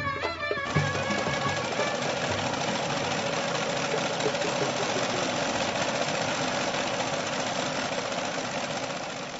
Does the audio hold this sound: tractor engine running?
yes